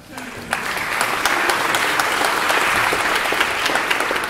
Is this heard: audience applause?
yes